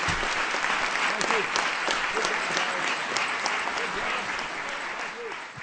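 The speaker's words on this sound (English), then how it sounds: "Give all these young people a big round of applause" Sustained audience applause at a science fair, a dense, steady roar of many hands clapping in a large room, with faint voices mixed underneath.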